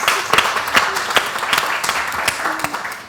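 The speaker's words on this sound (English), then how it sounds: "Can we have a round of applause" Audience applause at a panel talk in an interior design showroom, a lively mix of clapping with distinct sharp individual claps standing out, close and fairly loud, with a few faint voices underneath.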